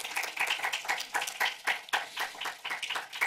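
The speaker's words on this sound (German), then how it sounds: "Und ich bitte um Ihren Applaus." An audience applauds in a hall at a German-language event on Disney animated musicals: dense, steady clapping from many hands that runs continuously throughout at moderate loudness.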